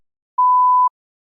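One steady electronic tone cueing the start of a TOEFL speaking response, a pure half-second beep, loud and isolated in otherwise silent surroundings.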